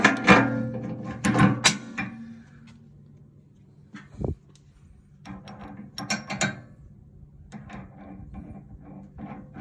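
A bolt being fitted and snugged on an EA Wicked tooth bar installed on a tractor loader bucket, with scattered metallic clicks, ratcheting and clanks in short bursts and a sharp knock near the middle, close by.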